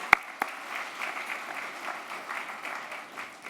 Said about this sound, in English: you can applaud that too